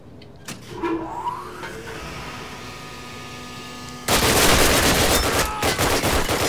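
Call of Duty gameplay with gunfire: scattered shots and mechanical clatter early, then a sudden loud sustained burst of rapid automatic fire with ringing echoes filling the last few seconds.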